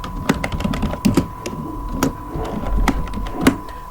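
Keys clack on a computer keyboard in a quick, uneven run of crisp taps, close and distinct over a faint steady hum, with no speech.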